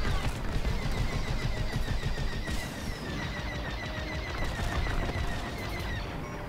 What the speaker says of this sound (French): Je suis sous le feu ennemi.